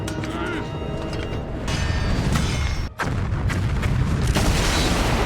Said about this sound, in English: Yep, it blew up the temple.